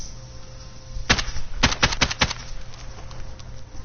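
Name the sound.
rapid gunshots in video game Call of Duty Modern Warfare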